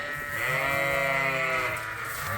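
Sheep bleating loudly and continuously inside a barn at morning feeding time, several overlapping calls filling the space with no talk.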